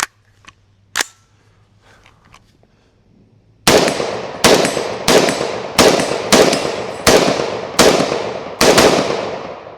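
AR-15 rifle with a Faxon 11.5-inch barrel fired at steel targets about 75 yards away: eight loud, sharp shots at a steady pace after a few quieter clicks, each leaving a ringing tail.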